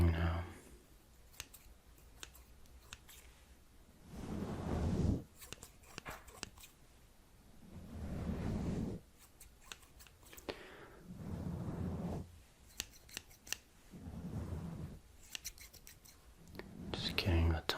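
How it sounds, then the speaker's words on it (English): Scissors snip steadily through hair during a soft-spoken ASMR haircut, crisp close clicks in quick bursts, alternating with gentle hushed speech. "Let's get back to cutting now."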